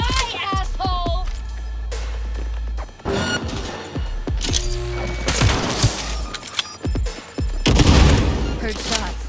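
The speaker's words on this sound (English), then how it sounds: "Heard shots." Rapid bursts of gunfire in Cyberpunk 2077 crack loudly over a dense, booming combat soundscape, overlapping shots and impacts packed tightly throughout.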